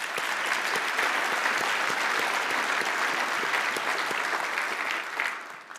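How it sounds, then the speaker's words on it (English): A conference lunch audience at a keynote event claps steadily in a dense, even round of applause, holding strong before tapering off in the final second. "Let's give them a round of applause."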